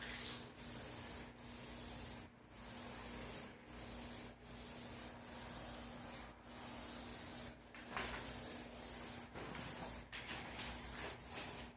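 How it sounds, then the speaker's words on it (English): A can of spray paint sprays a motorcycle gas tank in repeated hissing bursts of a second or so, split by brief pauses, the can spitting unevenly, with a steady low hum underneath. "I'm not crazy about how this can's spraying. It's kind of spitting a little bit, which is kind of alarming."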